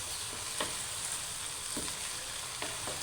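Tomato gravy simmering and being stirred in a pan for a chicken and cauliflower dish, a low steady sizzle punctuated by a few soft scraping strokes, heard close and quiet with no voices.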